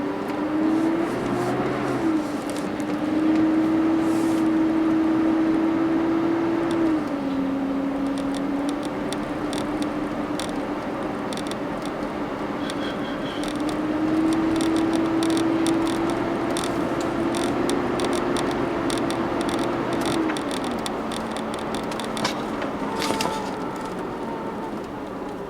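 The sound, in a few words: car power steering pump making noise while driving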